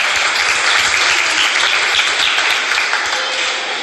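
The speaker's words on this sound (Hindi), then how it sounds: "जोरदार तालियों से स्वागत" A crowd gives a loud, sustained round of applause welcoming a guest at a gathering on the Delhi-to-Agroha Dham journey, a thick, even roar of clapping that tapers slightly at the end.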